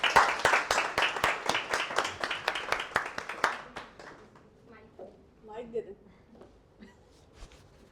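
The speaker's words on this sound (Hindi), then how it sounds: "आप सबकी भरपूर तालियों में तशरीफ लाएंगी" An audience at a seminar claps in a quick run of distinct, close hand claps for about three seconds, then the clapping fades and a few voices talk quietly.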